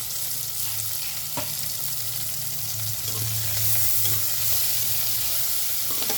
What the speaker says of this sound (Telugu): పచ్చివాసన పోయే వరకు మనము ఇది ఫ్రై చేసుకుందాం.